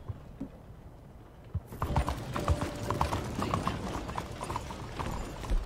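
Horse hooves clip-clop in the Red Dead Redemption II video game, starting after a quiet opening. A steady rhythmic trot of clear hoof strikes plays at moderate loudness, with some faint mechanical clicking under it.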